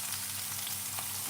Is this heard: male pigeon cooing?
no